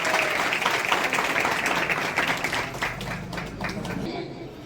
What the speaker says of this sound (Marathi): उमाच्या खरं तर आई वडिलांसाठी एकदा जोरदार मनापासून टाळ्या वाजवा